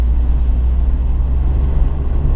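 A Fiat 124 Spider with a turbocharged engine pulls hard in fifth gear, its low steady engine drone and road rumble heard from inside the cabin, unbroken and fairly loud with no talk.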